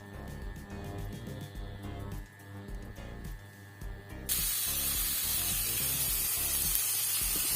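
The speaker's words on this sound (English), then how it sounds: "Meanwhile, I'm going to fry my onions." Onions frying in a tablespoon of olive oil for pasta carbonara, a steady loud hiss that jumps up sharply partway through as the onions hit the pan, continuous and close with no talking.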